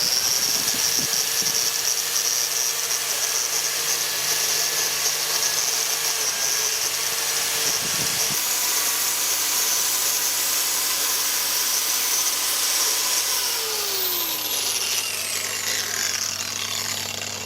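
A wire wheel on a power tool grinds steadily and loudly against an old oak horse yoke, stripping about a century of paint in a continuous harsh whir with shifting pitch.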